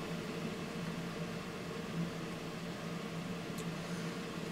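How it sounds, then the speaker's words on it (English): A space heater runs in the background as a faint, steady broadband whir with a low hum, unchanging throughout and with no talking. "I apologize if you can hear my space heater in the background."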